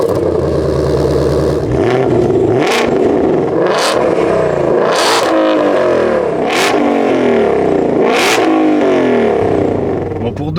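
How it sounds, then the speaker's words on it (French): A Ford Mustang Shelby GT500 engine revs hard again and again, each blip rising sharply over a loud, rumbling idle, heard close up, with a voice occasionally audible beneath. "t'as déjà ce bruit moteur de ouf et vous allez en entendre encore un morceau"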